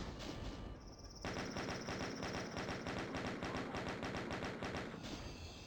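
Chaingunner in Doom letting loose with its chaingun, a loud, continuous rapid-fire rattle that runs for about four seconds before cutting off, with no talking over it.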